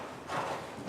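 A horse trots during a riding lesson, its hooves thudding in a soft, rhythmic beat at moderate distance, with no talking over it.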